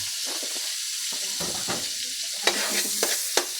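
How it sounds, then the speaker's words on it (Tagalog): Onion and garlic sauté in a hot pan for lumpiang shanghai filling, giving a steady close sizzle broken by a few sharp spatula clacks against the pan toward the end. "Mikos natin hanggang lumabas yung aroma ng sibuyas at bawang."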